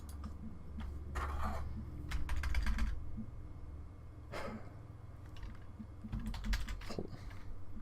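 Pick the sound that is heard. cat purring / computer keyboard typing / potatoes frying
computer keyboard typing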